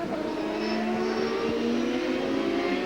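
A Champ Car IndyCar race car roars past under the bridge on the 2.62-mile Circuit de Mont Tremblant, a steady high engine drone that rises and falls slightly as it goes by, loud and continuous.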